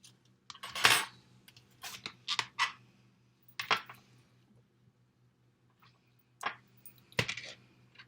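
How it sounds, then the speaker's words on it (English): Knife cutting washed mushrooms for an omelet on a board, a few sharp close clicks and chops in irregular bursts separated by quiet pauses, with no talk. "I'm going to cut some mushrooms"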